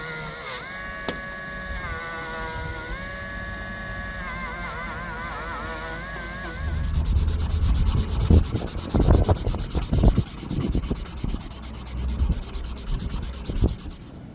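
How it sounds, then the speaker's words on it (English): A Dremel rotary tool fitted with 400-grit abrasive sands a vintage Hammer Brand jack knife blade, starting with a whirring tonal hum, then a louder, steady gritty rubbing and scraping with frequent bursts, close and continuous. "Got my Dremel with 400 grit on it, and we're just going to get all the heavy stuff off."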